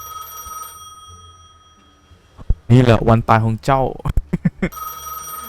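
A telephone in a gas station rings with a bright, repeating electronic trill, which stops as someone speaks over it and then resumes briefly at the end.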